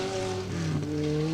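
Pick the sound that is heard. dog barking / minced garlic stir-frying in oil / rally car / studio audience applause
rally car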